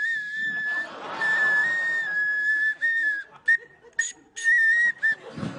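A person imitating an ocarina by whistling before a studio audience, with a thin, sustained tone that wavers and breaks into short separate notes near the end, and faint crowd noise underneath.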